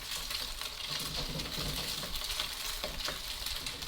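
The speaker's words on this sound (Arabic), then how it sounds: "ونخدموا في هذا الزيت باش هذا البيض هذا يتفتح لينا في الزيت" Beaten egg mixture frying in hot oil for noodles, giving a steady, close crackling sizzle with scattered sharp pops and spits and no talk.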